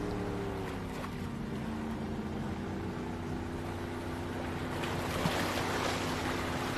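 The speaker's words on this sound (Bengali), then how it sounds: "মিস্টার থমাস, আমাদের বোটটা উত্তর পূর্ব দিকে নিয়ে চলুন।" A motorboat engine drones steadily in a cartoon, its low hum joined by rushing waves and water noise that swells louder toward the end, with no one speaking.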